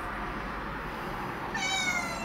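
A pet cat meows for attention, a single drawn-out meow rising near the end over a soft indoor background hiss.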